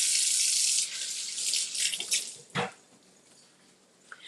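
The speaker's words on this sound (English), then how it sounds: "Let me wash it." Kitchen tap running steadily into a sink while produce is washed, a close hissing stream that softens, then cuts off, followed by a brief splash and a few faint drips.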